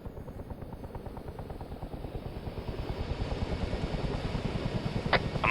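An aircraft engine in ARMA 3, a steady rhythmic rotor-like chop that grows louder and closer over several seconds, with a brief click near the end.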